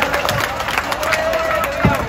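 A crowd at a political rally in Bengal claps and cheers in a loud, dense wash of applause, with scattered sharper claps over a steady roar.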